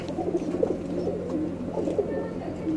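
A roller tumbler pigeon coos in low, soft repeated murmurs, close by over a faint steady background hum, with no clear voices.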